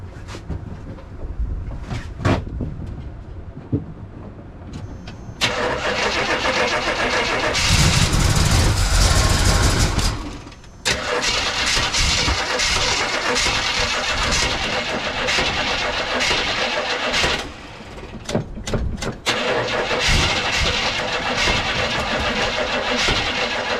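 A car cold-starting in the snow with exhaust cut-outs fitted: sputtering cranks, then a loud open-exhaust roar that dips briefly and keeps running rough, with short engine cut-outs and restarts.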